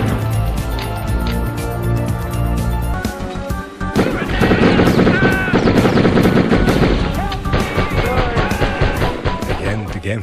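Rapid machine-gun bursts and explosive blasts from a Die Hard video game rattle continuously and loudly, layered over a dense, music-like backdrop that grows busier partway through.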